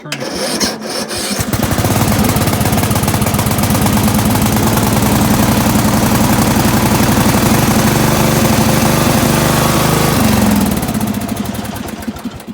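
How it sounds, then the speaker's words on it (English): A used Craftsman riding lawn mower engine catches after a brief crank, then runs steadily at a loud, close, even idle for several seconds before winding down. "that sounds like a good engine"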